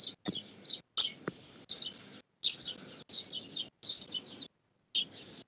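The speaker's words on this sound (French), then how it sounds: "Les oiseaux. Les petits oiseaux." Small birds chirp in a series of quick bright bursts separated by short pauses, fairly close and clear, with no talking over them.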